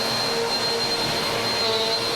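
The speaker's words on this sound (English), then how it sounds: "Maybe I shouldn't vacuum up the cables." A household vacuum cleaner runs steadily on a floor, a loud continuous whirring roar with a faint high whine, close by and alone.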